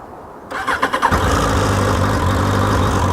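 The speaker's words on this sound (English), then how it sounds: "this is a very quiet motorcycle" A very quiet motorcycle engine starting on a neighborhood street: a short burst of cranking pulses, then the engine catches and settles into a low, steady idle, close by with no talking.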